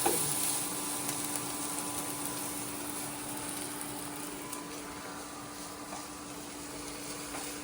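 Colourful capsicum fries in a pan in a home kitchen, a steady close sizzle with a faint constant hum underneath and occasional soft stirring.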